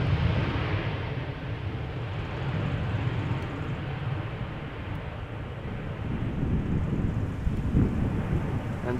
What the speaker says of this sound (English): Oh, and the wind is definitely still there